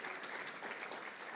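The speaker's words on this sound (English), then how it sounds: "He deserves a round of applause" An audience at a conference session gives a steady round of applause for a senator, a continuous dense wash of many clapping hands heard softly throughout.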